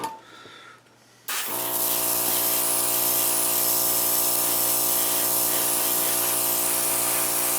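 Steady airbrush hiss spraying paint onto a 1/35 scale HobbyBoss German WWII Panzer I Ausf C model tank, starting abruptly after a quieter moment and holding a constant, close, loud spray.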